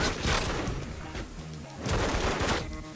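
Dante's gun attacks in a video game fight produce dense, loud bursts of rapid gunfire with booming impacts, pausing briefly midway before another heavy volley.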